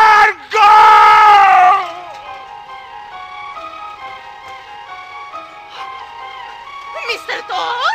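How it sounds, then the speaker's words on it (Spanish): Cartoon crowd scene with loud yelling voices at the start, then a busy jumble of fainter calls, music-like tones and scurrying commotion continuing underneath. "¿Qué son esos gritos y esas carreras?"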